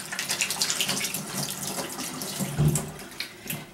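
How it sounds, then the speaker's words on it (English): Hands rinse under a running kitchen tap, a steady splashing stream of water close by. "Let's rinse our hands."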